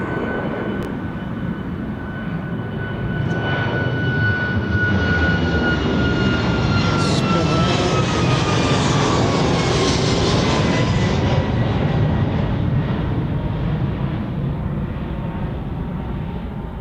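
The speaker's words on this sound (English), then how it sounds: "Ryanair off to Palma." A Ryanair jet taking off for Palma from East Midlands Airport, a loud sustained engine roar that swells and holds steady with a whining tone sliding downward, heard from a distance outdoors.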